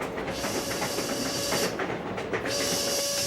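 Steady hissing steam from a train in an audio drama scene, a broad, continuous wash of noise with faint rail rumble underneath, alone and fairly loud throughout.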